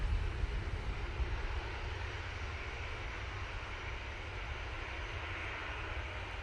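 A passenger airliner takes off from Manchester Airport bound for Faro, its engines a steady, broad roar with a deep rumble, loud and constant with no talking.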